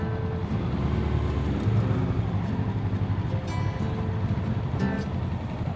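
Motorbikes on a Swiss touring trip rumble steadily as they ride off, with a constant low engine drone and wind noise close by, sustained throughout without talk.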